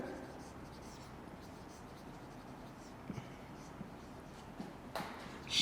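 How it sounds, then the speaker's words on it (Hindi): Soft, scratchy strokes of writing on a board or paper during an online English lecture, faint and intermittent beneath a low room background. "मैं ये लिख देती हूँ एक और जुमला"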